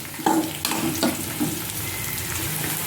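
Brinjal and spices sautéing in a pan for brinjal rasam, a close, loud sizzle with a few sharp stirring scrapes near the start, steady frying throughout and no talk.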